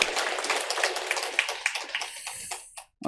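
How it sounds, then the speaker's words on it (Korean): A church congregation at a Korean Sunday worship service bursts into brisk applause, crisp clapping with a few sharper claps standing out, fading and breaking off near the end. "다시 한번 힘차게 박수로 시작하겠습니다"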